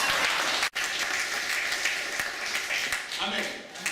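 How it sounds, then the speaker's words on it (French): Crowd applauding steadily in a church service, dense continuous clapping that fills the space with a brief dropout near the start, then carries on strongly to the end. "Est-ce que tu peux acclamer pour toi-même?"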